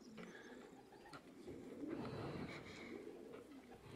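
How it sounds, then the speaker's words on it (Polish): Racing pigeons coo softly as they return to their loft during a race flight, faint, low murmuring calls with a few light rustles, heard at close range without speech. "cały czas gołębie przychodzą"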